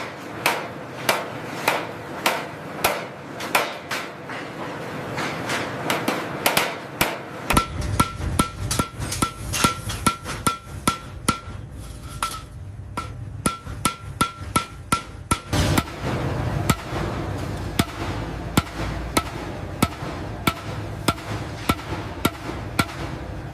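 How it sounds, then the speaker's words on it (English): A craftsman hammers copper into a curved cooking pot made from recycled copper wire, striking in a steady, loud, evenly spaced rhythm throughout, with a dense metallic clangor and background noise thickening partway through. "The master craftsman must carefully hammer the copper to achieve the perfect curve"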